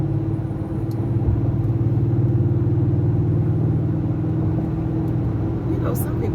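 Steady low engine rumble and road hum from inside a car driving on a road at around 45 mph, continuous and droning throughout the clip with a few faint clicks.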